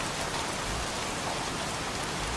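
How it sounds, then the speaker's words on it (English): Heavy rain pours down in the video game Heavy Rain, a dense, steady hiss of drops drumming on surfaces with no voices over it. "Goddamn rain. Soaking wet."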